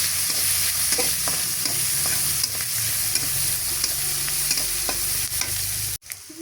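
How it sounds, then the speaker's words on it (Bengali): Loud, steady sizzling of onions frying in a pan, with repeated stirring scrapes, cutting off abruptly near the end. "এখন দিয়ে দিলাম পেঁয়াজ কুচি।"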